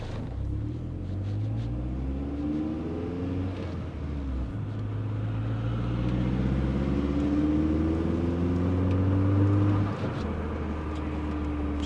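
A Volkswagen GTI drives along, its engine rumbling low inside the cabin with rising and falling revs as gears change, a steady road drone underneath.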